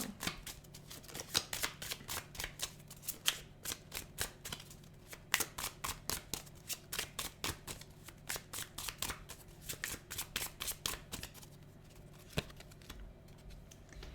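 Tarot cards shuffled by hand in long rapid bursts of crisp riffling clicks, steady and close, continuing alone without talk.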